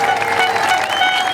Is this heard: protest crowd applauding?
yes